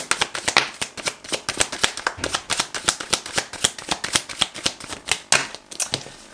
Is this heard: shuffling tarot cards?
yes